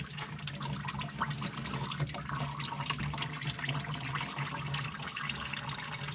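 Liquid drains slowly out of a lowered container as a close, continuous trickle and splash into a receptacle, steady and fairly quiet with no talk.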